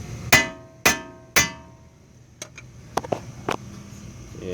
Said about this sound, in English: And just give it a good pop with a hammer.